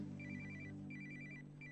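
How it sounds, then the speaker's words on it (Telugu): A telephone rings in two short electronic trilling bursts, close and clear over a low steady background hum. "phone ring"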